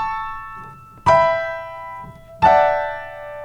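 Two loud blocked piano chords are struck a little over a second apart, practised from an arpeggiated passage in a Haydn sonata, each ringing and slowly fading. A faint low note sustains underneath and no one speaks.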